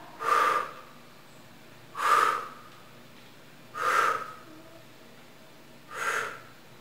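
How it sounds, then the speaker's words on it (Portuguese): Four slow, forceful exhalations during a pilates exercise, evenly spaced about two seconds apart, each a breathy whoosh close to the mic, with quiet pauses between and no talking. "E solta o ar."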